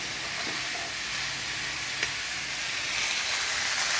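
White potato curry frying in a pan, a steady soft sizzle with light stirring throughout, fairly close and continuous, no voices.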